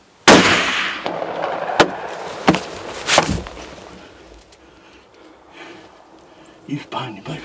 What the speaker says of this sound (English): We'll have to shoot at him.